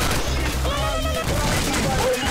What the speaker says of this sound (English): it's like a semi-auto shotgun